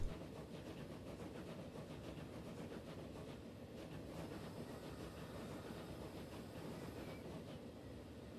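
A train rolls along rails in a city-building game, a steady rumbling roll with faint clattering wheel noise, quiet and continuous throughout without voices.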